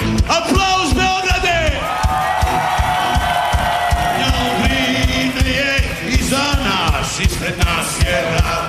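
A big festival crowd at the 2018 Belgrade Beer Fest cheers, whoops and applauds during a concert, with loud shouting voices over a constant roar.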